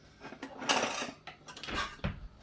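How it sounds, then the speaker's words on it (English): A spatula stirs pulled pork in a pan, making a brief series of soft metallic scrapes and clanks close by, with no talking. "We'll use a spatula. That's what we'll use to mix it around."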